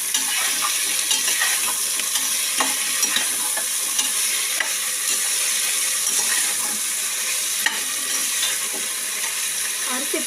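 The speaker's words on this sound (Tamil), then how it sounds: "தக்காளியும் போட்டுருங்க. நல்லா வதக்கிடுங்க." Tomatoes sautéing in a pan for potato biryani give a loud, steady sizzle with frequent scraping stirs of a spatula, close up throughout.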